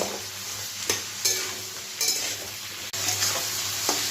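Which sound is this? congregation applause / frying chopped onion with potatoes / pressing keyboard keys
frying chopped onion with potatoes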